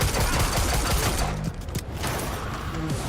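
SMG gunfire in a video game, rapid loud bursts of shots in quick succession, with a brief pause partway through before firing resumes.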